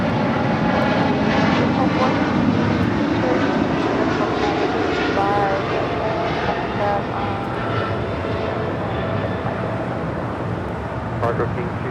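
A Philippine Airlines Boeing 777-300ER arriving at LAX, a loud continuous jet roar with broadband rushing that holds steady and gradually eases, with a voice speaking over it.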